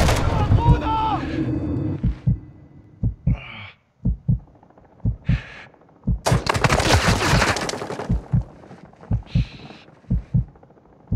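Gunfire in Call of Duty Modern Warfare 2, a video game: sharp bursts of shots in irregular clusters, some rapid automatic strings, near and loud, with a voice speaking briefly at the start.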